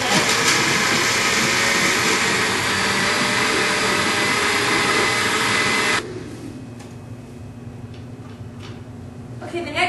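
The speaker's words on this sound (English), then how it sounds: "we're gonna put it in our blender, and we're gonna blend it up." A loud, steady motor whirr of a blender pureeing pozole for several seconds, then it cuts out, leaving quieter room noise with faint clatter.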